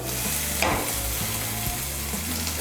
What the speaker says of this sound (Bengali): নুনটাকে মিশিয়ে নিয়ে মশলাটাকে আরেকটু ভেজে নিয়েছি।